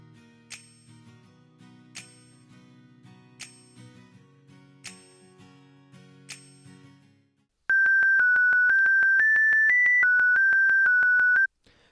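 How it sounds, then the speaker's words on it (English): A pure sine wave synth in FL Studio plays the Cobra Kai melody as a clean whistle-like sequence of sustained tones, after a stretch of soft plucked chords with regular bell-like accents. "All that's happening is a sine wave is starting here and then going to the output."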